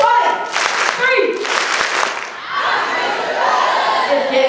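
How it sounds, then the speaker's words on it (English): A crowd claps together in two loud, separate bursts, each a short wash of hands striking in unison, followed by cheering and voices. "Clap once, twice,"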